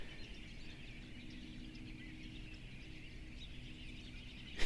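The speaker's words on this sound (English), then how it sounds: "Listen to all the birds." Early-morning birds chirping and calling outdoors on a cold day by saltwater fishing grounds, a steady distant chorus under low ambient noise, ending with a brief louder rustle.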